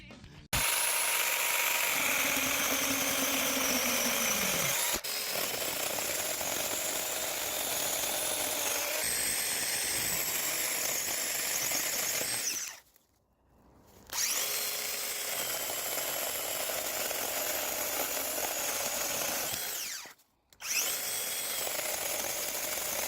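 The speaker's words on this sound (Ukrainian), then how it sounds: "На гілках товщиною 5-7 см пилка працює без жодних проблем." The RZTK Mini Saw 21V Pro cordless mini saw cuts through branches 5–7 cm thick with a steady, loud, high-pitched whine that runs almost continuously, dropping out briefly twice between cuts.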